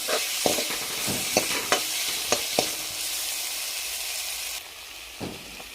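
Potatoes are stir-fried in a hot pan under a steady hiss, with a spatula scraping and knocking at an uneven pace for several seconds before the sizzle drops back; close, with no talking.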